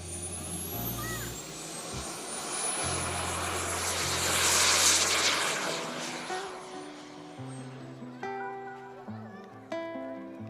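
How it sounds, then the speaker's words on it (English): A large model aircraft on 20x11 Falcon carbon fiber propellers passes with a rising and falling propeller drone and a high whine sweeping in pitch, while people talk nearby and background tones play. "Those big 20 by 11 Falcon props, the carbon fiber propellers"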